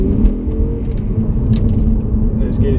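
An Audi R8 V10 rolls over rough, bumpy San Francisco streets, its low engine drone and road rumble running continuously with small knocks and rattles from the surface, while someone talks over the car noise.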